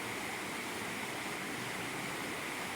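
Powerful river water surges past close by in a steady, unbroken roar, broadband and even throughout the short stretch with no voices present.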